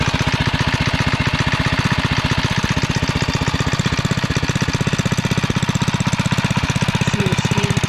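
A cold REO Trikeabout engine warms up with the choke on, running a steady, loud, rapid chugging idle with an even knocking rhythm close by and no talk over it.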